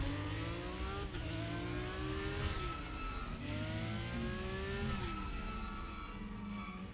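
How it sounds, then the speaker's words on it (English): A Porsche 911 GT3 in the RaceRoom racing game howls at steady engine pitch, its tone rising and falling with shifts and braking while thin squeals from the brakes cut in over the engine. "You squeal from the brakes there."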